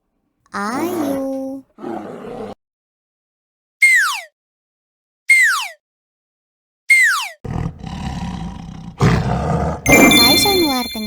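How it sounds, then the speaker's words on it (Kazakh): A bear roars in a children's educational cartoon. Its loud, rough roar comes in the last few seconds, after a short stretch of voice and several quick, swooping cartoon whistle effects separated by silences. "Бұл аюдың дауысы."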